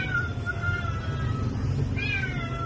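A Siberian Forest kitten meowing in two thin, rising calls separated by a pause, over a steady murmur of background noise.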